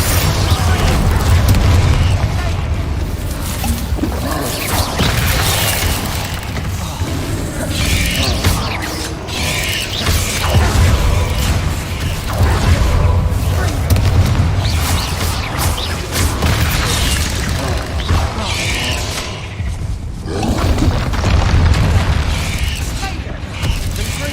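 Magical Bombarda blasts and other combat spells in Hogwarts Legacy boom and rumble continuously, dense and loud with mechanical clatter throughout.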